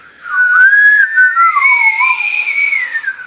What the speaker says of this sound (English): I can only whistle like 2 notes.